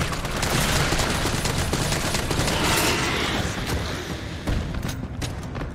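Dense, continuous gunfire from the video game Resident Evil 3 crackles and booms in rapid bursts, loud and close, with no pauses between shots.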